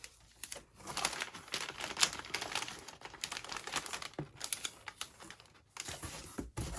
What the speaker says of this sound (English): then this one I'm going to tape to the side of the box, and then at the top as well